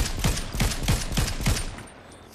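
Red Eye Assault Rifle fires in a video game, a rapid burst of about six evenly spaced heavy shots with booming low thumps, loud and close, fading into a short tail at the end.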